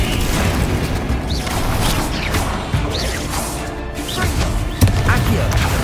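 A Bombarda blasting spell erupts in Hogwarts Legacy combat, with booming crashes, whooshes and clattering impacts layered over busy game effects and voices.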